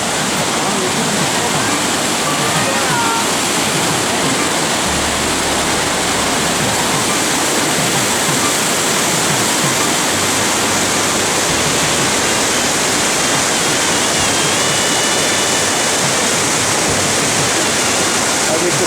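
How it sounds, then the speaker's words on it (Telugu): A forest waterfall at Champaka forest near Tamrapani pours in a loud, dense, unbroken roar that holds steady throughout, close and alone. "జలపాతాలు."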